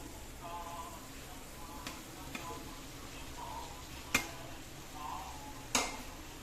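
Paneer bhurji with onions is stirred in a pan, a soft scraping and gentle sizzle with a few sharp spatula clicks against the metal, under quiet background hum.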